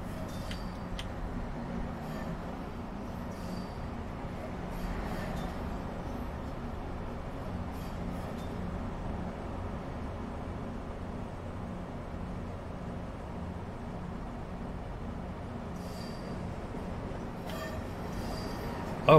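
Train running in a train simulator video game, a faint steady low rumble of wheels and motor throughout with occasional light clicks, no talk.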